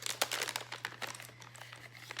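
Faint, close crinkling of plastic packaging as makeup brushes are unwrapped, irregular crackles over a low steady hum.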